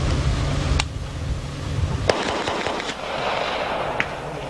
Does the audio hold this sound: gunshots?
yes